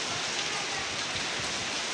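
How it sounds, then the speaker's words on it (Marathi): Heavy rain pours down in a dense, continuous hiss with no letup, heard from a room near Mandhardevi temple. "इतका पाऊस जोराचा पाऊस चालू झाला"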